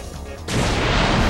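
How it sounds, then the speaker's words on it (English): A small bomb in the video game Bomberman 64 goes off in a single sudden, heavy explosive burst that cuts in partway through and then rolls on as a loud, sustained rumbling roar after a quieter opening. "For being one small little bomb, that was a pretty hefty explosion."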